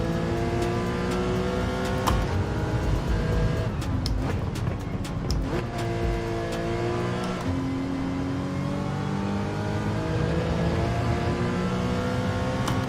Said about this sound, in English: There's a new whine to the motor in this car. I think that's the transmission.